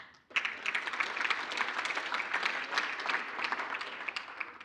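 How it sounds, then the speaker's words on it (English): Sustained audience applause at the 2022 South African Mathematics Foundation annual awards function, dense steady clapping from a large crowd starting abruptly and continuing evenly throughout, with no talk over it. "thank you very much, wonderful audience, for applauding them and giving them the love"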